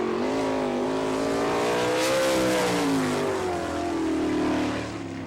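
A sprint race car, number 55 with a Hershey engine on a Maxim chassis, roars on a dirt track in Haubstadt, Indiana, its loud engine note rising and falling steadily as it laps.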